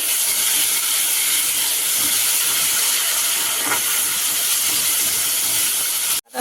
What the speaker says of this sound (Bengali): মশলা ধোয়া জলটা দিয়ে দিচ্ছে মশলা কষানোর জন্য